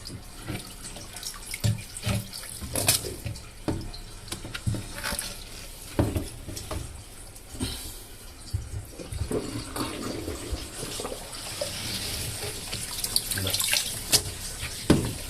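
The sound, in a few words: water draining from a semi-automatic washing machine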